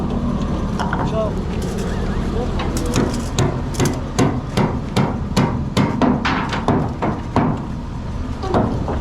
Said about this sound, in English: Hammer the nail down.